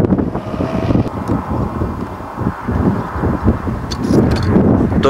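Strong steady wind off the Atlantic buffets the microphone outdoors near wind turbines and a grain field, a loud continuous roar with gusty surges and no speech.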